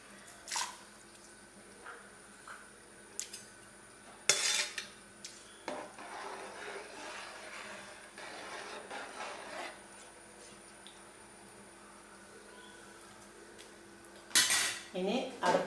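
Kabsa rice being stirred in a cooking pot with a metal spoon, producing intermittent clinks and scrapes against the pot rim, with soft wet squishing between strikes and a couple of louder clatters near the end.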